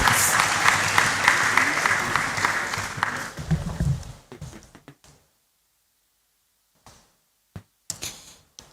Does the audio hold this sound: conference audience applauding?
yes